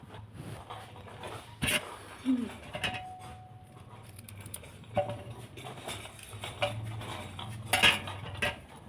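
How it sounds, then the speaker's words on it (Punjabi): Carrots being cut by hand for a vegetable dish at home: quiet, irregular knife clicks and clinks against a utensil, with faint background chatter and a bird chirping in the distance. "ਕੱਟਦੇ ਆਂ ਜੀ ਗਾਜਰਾਂ ਦੀ ਸਬਜ਼ੀ"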